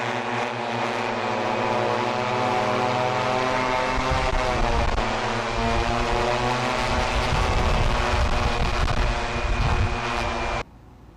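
A T960 multirotor drone on a 6-cell battery hovers close by, its propellers making a loud, sustained, buzzing whine with slowly shifting pitch that cuts off abruptly near the end.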